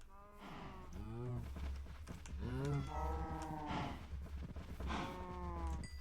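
Cows mooing in the Minecraft game Cobblemon, several drawn-out bellowing moos in a row, close and fairly loud, with a low steady hum beneath.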